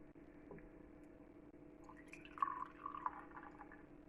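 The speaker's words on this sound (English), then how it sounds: "We'll see if they're fizzy when we pour in." Homemade ginger beer made with wild yeast pours and splashes quietly in the middle of the clip, with a few brief fizzing, dripping bursts over a steady low hum.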